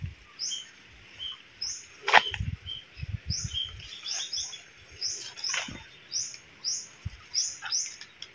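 Birds on an island give repeated short, high chirping calls, spaced fairly evenly over a quiet outdoor background, with a few soft nearby rustles and knocks.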